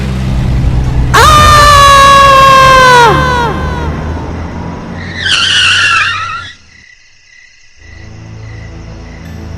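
A loud tire screech as a car brakes and skids to a stop, followed by a brief high squeal and then quiet idling.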